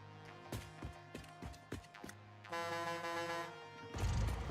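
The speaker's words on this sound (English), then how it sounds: "We can honk." In the Satisfactory video game, a truck's horn sounds as a loud sustained blare after a run of rhythmic clanking thuds, ending in a rumbling surge of engine noise.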